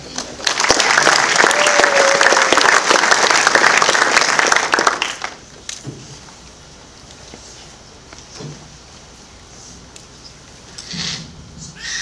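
Applause from an audience at a high school sports award ceremony, loud dense clapping for about five seconds, then fading to scattered claps and quiet room noise.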